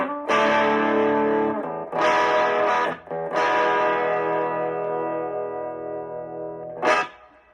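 An electric guitar runs through a Carvin V3M amp on channel 1 with moderate overdrive, ringing out loud sustained chords, struck three times in quick succession, the last one held and decaying before a final short hit.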